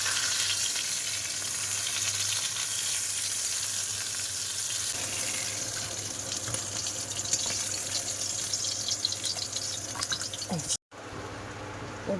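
Rohu fish frying in hot oil gives a steady, close sizzle that runs continuously, with faint kitchen clatter and a brief dropout near the end.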